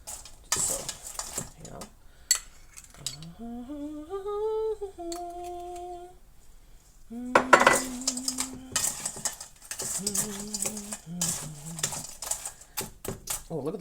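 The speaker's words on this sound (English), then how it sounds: "Just going to mix everything in there really well." Frozen peaches tossed with sugar and cornstarch in a dish make intermittent clinking and scraping stir sounds, mixed in among a woman's speech and close, scattered utensil knocks.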